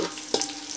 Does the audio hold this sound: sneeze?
no